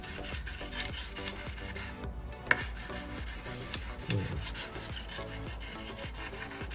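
Hedge shears are sharpened on a whetstone, making close, repeated rasping scrapes in a steady back-and-forth rhythm with brief pauses between strokes.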